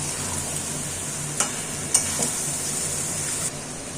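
Cauliflower masala with ground roasted cumin and coriander being stirred in a frying pan, a loud constant sizzle with a few sharp scrapes of the spoon against the pan, no voices.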